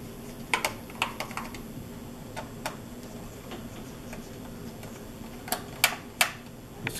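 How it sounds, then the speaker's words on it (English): Small screws are worked loose from the bottom cover of an Alienware 13 laptop, giving scattered light ticks and clicks, close and quiet, with a few sharper clicks near the end. "you're just gonna unscrew these two screws here."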